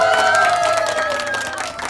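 Audience applause and cheering fill a room at the opening of a janggu drumming studio branch in Gwangju, dense clapping under a held tonal sound, with voices mixed in, tapering slightly toward the end.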